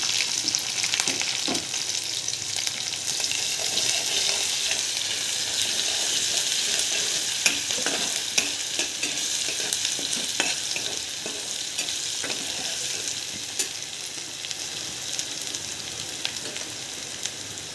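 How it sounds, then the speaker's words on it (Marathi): Onion sautéing with garlic, ginger and cumin in a pan, a dense continuous sizzle with frequent small scrapes and clicks of a stirring spoon, close and steady throughout, no voices. "कांदा लाल होईपर्यंत परतूया"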